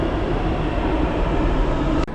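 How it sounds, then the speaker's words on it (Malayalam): A Kerala metro train rumbles loudly into a station, a dense steady roar of wheels and motors that cuts off abruptly near the end. "കേരള മെട്രോ വന്നിട്ടോ."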